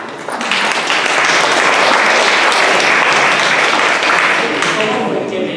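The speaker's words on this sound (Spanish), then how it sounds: "Vamos a darle un fuerte aplauso a ellos." Steady, loud audience applause fills the room at a church gathering, a dense wash of clapping that starts quickly and holds at full strength throughout.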